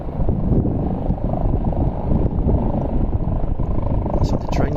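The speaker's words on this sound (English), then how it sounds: "Helicopter landing right opposite" A helicopter comes in to land beside a river near a train station, heard as a loud, steady rotor and engine roar mixed with wind buffeting the microphone.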